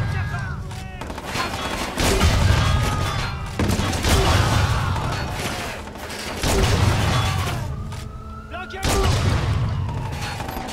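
Heavy gunfire in Watch Dogs 2, loud repeated volleys and booms rolling in waves with brief lulls between, with game voices and effects mixed throughout.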